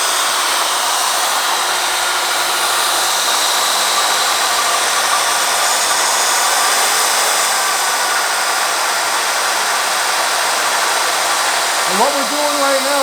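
A drill spins an engine valve to cut its valve seat during a homestyle classic car engine rebuild, giving a steady, loud, high-pitched whir that runs unbroken throughout and rises briefly in pitch near the end.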